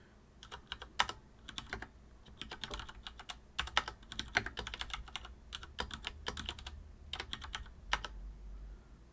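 Computer keyboard being typed on in quick, uneven bursts of close clacking keystrokes with short pauses between runs, over a low steady hum and no voices.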